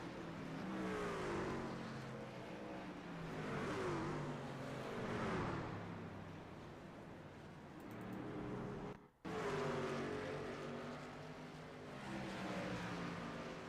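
Ford F-150 race truck engine in a racing video game at the Red Bull Ring, revving and falling in broad swells as the truck accelerates and brakes, with one sharp cut near the end, sustained and fairly loud with no speech.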